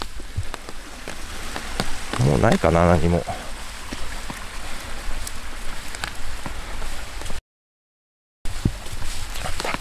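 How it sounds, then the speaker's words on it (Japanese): Rain falls steadily on bamboo woods in the mountains around a ruined naval gunpowder works in Maizuru, Kyoto. A continuous close patter runs under a man's brief speech, with a short silent gap. "雨が降ったり止んだり、"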